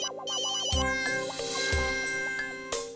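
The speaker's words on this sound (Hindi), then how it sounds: "फोन बज रहा तेरा फोन बज रहा है।" A mobile phone ringtone rings loudly in a cartoon scene, a repeating electronic melody with two strong low thumps, playing alone without talk.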